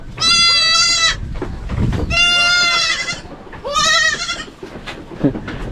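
Goats bleat loudly on a farm where many have recently given birth, with three long, wavering cries close by separated by short pauses and rustling background noise.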